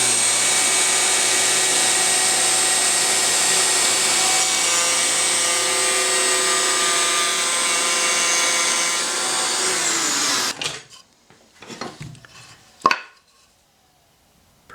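A Festool HL850 electric hand planer shaves a rough edge off a wood board at a shallow 1 mm depth of cut, a loud, steady, close whine running for about ten seconds before the motor cuts off, followed by a few scattered knocks and a sharp clack.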